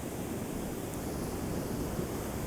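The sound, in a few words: ocean waves on a misty day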